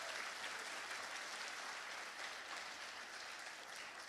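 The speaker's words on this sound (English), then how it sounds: "How about a round of applause for Rayleigh Primo?" An audience at a Sac and Fox tribal powwow claps steadily for a jingle dress dancer, a sustained, moderately distant wash of applause with no talking.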